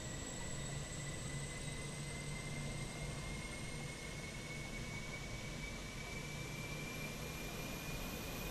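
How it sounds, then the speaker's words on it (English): Auxiliary power unit of an airliner spooling up in Microsoft Flight Simulator 2020, a steady loud broadband whoosh with a thin whine slowly climbing in pitch, continuous and unchanging throughout. "APU is fired up"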